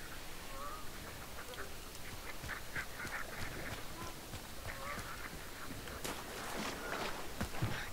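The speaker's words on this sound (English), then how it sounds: "There's a duck over there." A duck quacks faintly a few times in the Hunt: Showdown game's outdoor ambience, with short calls scattered over a constant noisy background and some clopping-like sounds.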